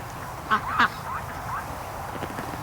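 A duck in a barn gives two short, close quacks, then a couple of fainter calls, over a steady low background hum.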